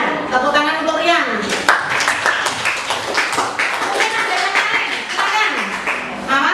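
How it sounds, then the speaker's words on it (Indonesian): A junior high school class claps for a student in the classroom, a brisk patter of many hands under ongoing talk. "tepuk tangan untuk Rian"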